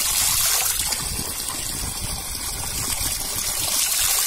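Running water splashes and trickles steadily as raw chicken pieces are swished and rinsed in a basin, a close, continuous watery wash with no talk.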